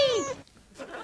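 A cat gives a single short, clear meow close by, followed by a brief quiet pause and a faint breathy sound.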